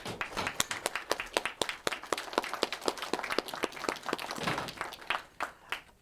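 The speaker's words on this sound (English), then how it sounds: "Let's just give them a hand of applause." Scattered hand clapping from a modest audience at a Flag Day ceremony honoring families of service members, fairly faint with distinct individual claps in an uneven rhythm throughout.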